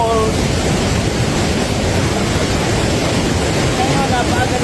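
Morrisville Falls roaring as a steady, loud wash of broadband rushing water, unbroken and close, with wind buffeting mixed in.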